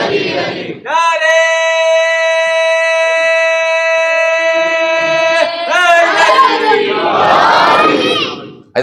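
A crowd chants religious slogans in unison at a Shia majlis for the 20th of Ramadan, with one long sustained voiced cry and then a burst of loud, ragged shouting from many voices.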